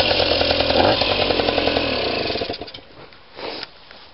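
Two-stroke moped engine, just kickstarted cold with a partly missing choke, runs with a loud buzzing, rattling idle that fades and sputters toward the end before a short rev.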